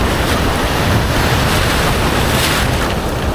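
Ocean waves break on a Rio de Janeiro beach in a loud, continuous wash of surf and wind roar, close by and unbroken for several seconds, with no voices.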